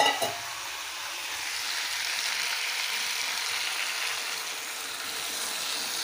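Flat beans sizzle in a pan with watered-down mustard paste and green chilli paste, a steady, close hiss of frying with a small knock at the very start and no voices.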